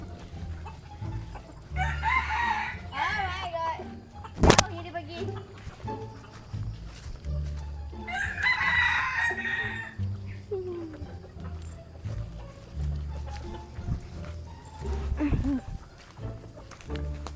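Chickens in a village setting clucking nearby, with a rooster crowing loudly twice, plus a sharp knock and scattered rustling, while people talk over the birds.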